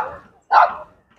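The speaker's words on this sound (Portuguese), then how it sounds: "a zoada dos cachorros latindo" Dogs bark along the Fortaleza beachfront, giving two sharp, close barks with a short gap between them and the start of a third at the end, and nothing but quiet in between.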